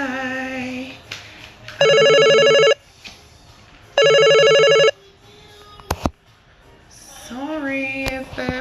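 A telephone ringtone plays in two loud, steady bursts of harmonic tones, each lasting about a second, separated by quieter sounds, with no talk over it.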